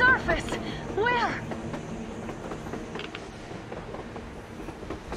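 A train moving in Metro Exodus in Moscow, a steady rolling rumble with rhythmic clatter that fades gradually, while voices speak over it at the start.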